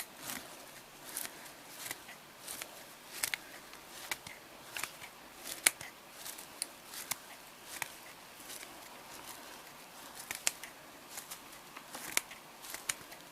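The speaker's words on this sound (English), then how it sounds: "Then I'm gonna go in with my scissors. Try to help cut some of this up." Repeated crisp snips and crunching of scissors cutting through dry, brittle leaves, steady and close up, at a quiet level.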